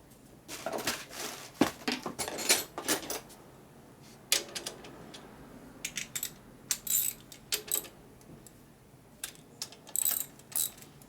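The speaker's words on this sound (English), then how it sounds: "Tighten that nut up, and we're going to tighten these up." A wrench tightens nuts on a Harley knucklehead springer fork, giving close, intermittent bursts of ratcheting clicks and metallic taps with short pauses between them.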